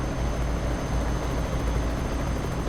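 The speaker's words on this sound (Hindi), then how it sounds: "हेलीकॉप्टर जा रहा है, आवाज़ तो आ रही है मुझे कहीं से, वो आ रहा है हेलीकॉप्टर।" Helicopter flying overhead in Euro Truck Simulator 2, a steady broadband rotor and engine drone that holds at a constant loud level throughout, with no voices over it.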